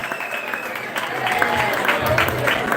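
A small polka music hall crowd claps steadily in a warm round of applause for a Hall of Fame polka musician, moderately loud and continuous.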